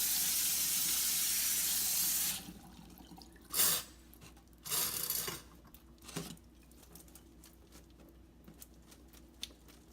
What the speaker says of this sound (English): give it a quick rinse with cold water to stop the cooking process